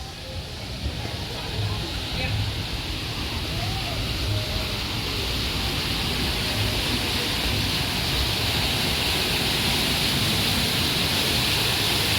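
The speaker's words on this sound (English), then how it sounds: "Wow, it's a big waterfall." A big waterfall at Epcot pours in a steady, dense roar, filling the whole 12 seconds at an even level with no pauses, like broad rushing water heard from close by.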